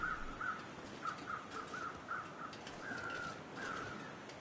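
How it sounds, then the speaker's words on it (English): Crows in The Long Dark survival game call out in a steady run of harsh, rhythmic caws. They sound fairly distant against a quiet, breezy wilderness background, and nobody speaks. "I will want to check out what those crows are screaming about."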